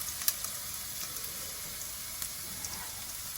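Chopped onion sizzling as it sautés in a pan for a vegan carrot stir fry, a steady soft frying hiss with a few faint clicks, close and alone.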